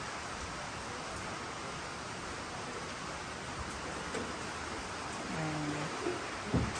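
Steady rain pours down outside a rural Thai family home, a dense even hiss that holds throughout, with a few faint household sounds surfacing near the end.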